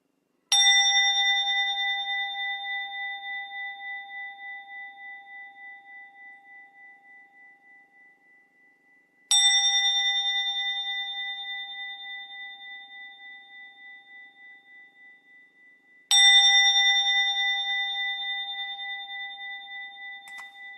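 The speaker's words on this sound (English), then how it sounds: "let me ring a bell" A meditation bell struck three times at spaced intervals, each ring a clear, bright tone with a long shimmering decay that fades slowly into silence before the next strike.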